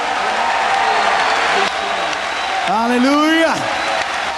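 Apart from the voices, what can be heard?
congregation applauding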